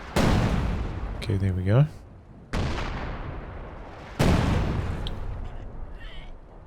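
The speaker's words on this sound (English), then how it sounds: "the bunker busting barrage from the Brumbier, like the first shell, is close to pinpoint accurate" Bunker-busting artillery barrage from a Brummbär in a strategy video game: three heavy shell blasts a second or two apart, each booming and trailing off, with a short spoken remark between them.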